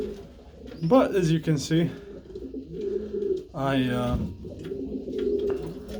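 Pigeons in a loft during a deep freeze coo nearby in low, throaty, repeated calls, now and then swelling into a louder burst. Someone talks over part of it.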